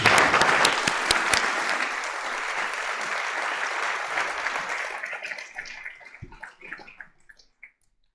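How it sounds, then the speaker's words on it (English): A round of applause from an audience at an aviation event fills the first five seconds at full strength, then thins into scattered claps and fades out near the end, with a few sharp claps standing out early. "think they deserve another round of applause"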